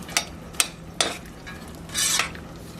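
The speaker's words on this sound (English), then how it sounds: "Give it a nice stir." A spoon stirs onions in a pan, making three quick scrapes and then a longer scraping sweep. The sound is close and fairly quiet, with nobody talking.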